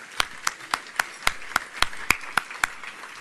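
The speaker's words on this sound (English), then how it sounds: "So now you can applaud for Nabiha and her initiative." An audience claps in a sparse, scattered way at a Borlaug centennial statue event for the U.S. Capitol, with about ten distinct, evenly spaced claps over three seconds that sound moderately near and fairly faint.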